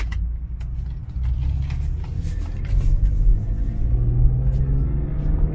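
A 2005 BMW M3 Convertible rumbles along steadily from close by, its engine note swelling slightly as it swings through a U-turn on a road, with a few faint clicks over the low drone.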